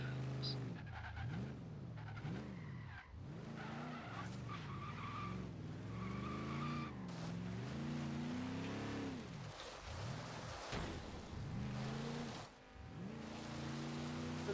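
A barn-find car in the racing game Forza Horizon 3, its engine rising and falling in revs while tires skid and squeal repeatedly as it slides about. Someone talks over the driving throughout.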